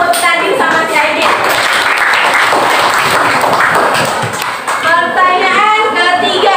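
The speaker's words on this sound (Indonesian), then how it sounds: "tepuk tangan buat Nadine sama si Aidin" Classroom applause for two students, Nadine and Aidin, as children clap steadily for several seconds, with a teacher's voice talking over the clapping at the start and end.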